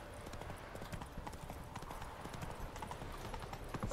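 Geralt's horse Roach in The Witcher 3, hooves clip-clopping in a brisk, steady rhythm at close range, with some soft game ambience underneath.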